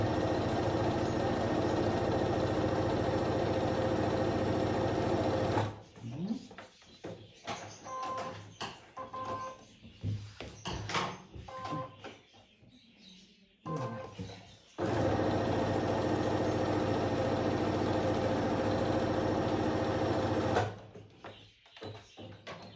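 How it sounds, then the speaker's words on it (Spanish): A sewing machine stitches a pocket onto a Volkswagen-appliqué shoulder bag, running in steady loud bursts of several seconds separated by pauses filled with handling and rustling noises. "Vamos a coser primero aquí un filito para darle más cuerpo al bolsillo."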